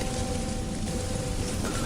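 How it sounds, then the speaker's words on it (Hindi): Rain pours as a background effect in a Hindi horror story, a loud, dense and unbroken hiss that fills the whole moment with no voices over it. "बारिश अब भी बरस रही थी"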